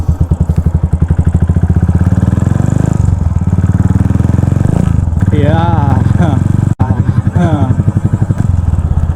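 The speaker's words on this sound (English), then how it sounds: "The feel of riding this motorcycle is completely different." Custom KGF-style motorcycle with a modified exhaust, loud and close with a steady throbbing engine note that rises and falls as it is ridden, while people talk over it.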